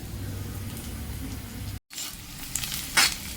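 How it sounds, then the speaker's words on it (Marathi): Onions sautéing in a pan for a Marathi kanda karode vegetable dish, a steady close sizzle with faint stirring scrapes, briefly cut off by a short silent gap before the sizzling resumes a little brighter. "कांदाही छान परतला गेला आहे"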